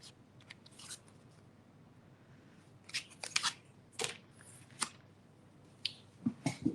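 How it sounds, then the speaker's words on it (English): A paper trimmer cuts paper during a craft session, a run of quiet, crisp snips and clicks, sparse at first and then more closely spaced, heard alone at low level. "need my trimmer, there it is."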